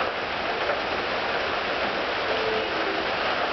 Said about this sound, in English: The rain's coming down a little harder.